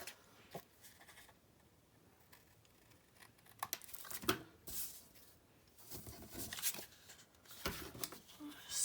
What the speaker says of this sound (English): snip those little bits off there